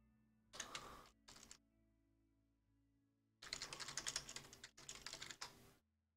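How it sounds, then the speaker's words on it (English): Quick bursts of typing on a clanky office computer keyboard, two short flurries then a longer run of loud, close, rattling keystrokes, separated by quiet gaps. "Sorry if my keyboard's a little bit louder. I'm just using a very clanky office keyboard right now"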